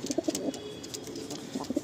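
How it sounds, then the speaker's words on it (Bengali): Andhra breed pigeons cooing in a pigeon loft, soft low rolling coos repeating close by in two short clusters against light background noise. "8টি পিজিয়ন লাফট দেখুন"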